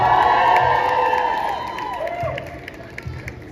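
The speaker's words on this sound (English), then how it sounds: "Let's get a big old cheer for all the students, staff, and members of the public who are out here" A student protest crowd outside a university in Leeds cheers and whoops loudly at first. The noise is close and dense, then tapers into scattered claps and shouts.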